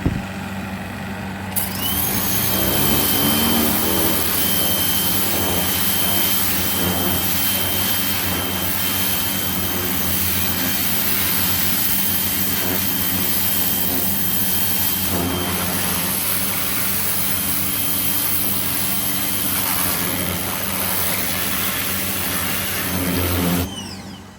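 A Komatsu heavy equipment engine drones loudly and continuously, a thick mechanical roar with a constant low hum that barely changes for the whole stretch.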